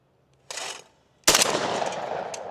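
Savage 775 shotgun fired at clay targets outdoors, one short muffled report followed by a second louder, sharp blast that rings out and decays slowly.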